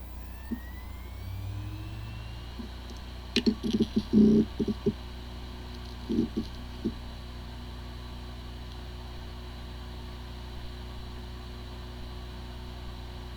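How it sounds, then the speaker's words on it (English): A WD My Book external hard drive with corrupted disk firmware gives off a steady low hum and whine, broken by short clusters of quiet clicking and ticking near the middle. "The following is the sound from one of the hard drive which experienced disk firmware corruption."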